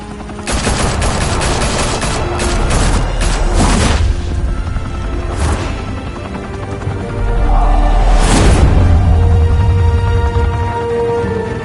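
Heavy gunfire in Batman: The Telltale Series: a loud, continuous fusillade of overlapping shots and deep booms that runs without a break, dense and close, with a bigger blast near the end and no talking.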